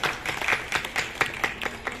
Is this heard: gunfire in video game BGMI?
no